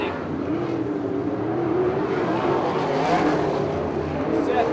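Open 360 and 410 sprint cars race at Victorville Raceway Park in the closing laps of a 35-lap Turkey Classic main event. Engines drone and whine steadily at a distance under a track announcer's voice.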